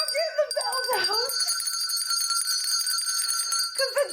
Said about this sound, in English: And I'm getting the bells out.